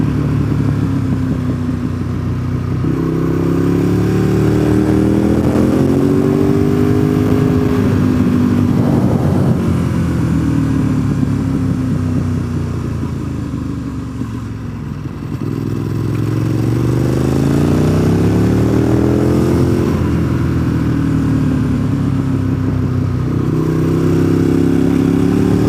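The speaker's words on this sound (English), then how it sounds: "The traffic has pretty much been like this all day today." Street traffic full of motorcycles roars steadily and close, with engine pitches rising and falling as bikes accelerate and ease off in overlapping waves, and no voices.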